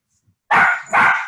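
A dog gives two quick, loud barks close by, right after one another, at a paint-and-sip gathering indoors.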